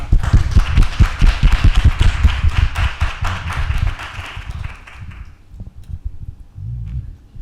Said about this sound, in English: give us just another round of applause for this group of folks